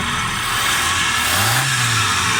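A Suzuki Alto 1000cc EFI petrol engine, freshly fitted with new spark plugs, runs steadily with a brief rising rev near the end, loud and close with no voices.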